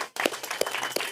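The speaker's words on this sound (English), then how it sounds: "So a big round of applause to all our Parks and Recreation staff" Scattered clapping from a small outdoor audience at a city playground and splash pad completion ceremony, a few distinct claps over a steady background hiss.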